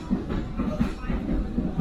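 LGSRY rail bike rolling along tracks in the Lehigh Gorge, a continuous close rumble with faint rhythmic wheel clicks.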